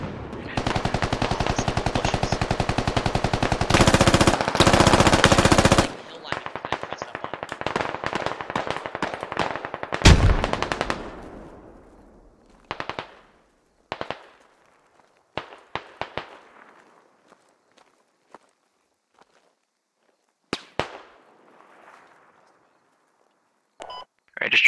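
Gunfire in the military shooter game Squad: a dense, sustained burst of rapid automatic fire, then scattered single shots and short bursts fading into quiet gaps, loud and close.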